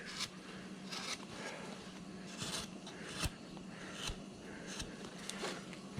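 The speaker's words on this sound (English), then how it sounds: "I'll take that little point on that gouge and start working away." Gouge carving wood on a bandsaw-cut cowboy figure, with faint, irregular scraping and cutting strokes, a few sharper clicks of the tool, and steady low background noise.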